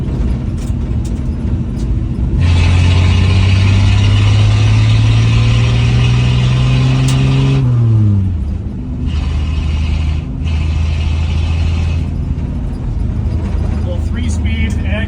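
A 1970 Ford F250 pickup with a three-speed gearbox cruising, its engine droning steadily and loud up close, rising in pitch before easing off as it shifts, with road rumble continuing afterward and a voice talking over it.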